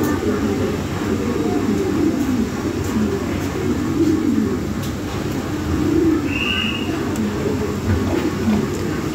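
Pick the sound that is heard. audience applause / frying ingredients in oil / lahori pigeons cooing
lahori pigeons cooing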